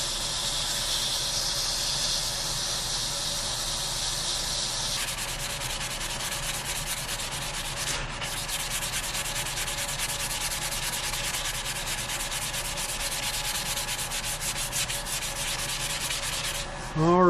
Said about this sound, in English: and then we'll hit it with our 400 grit.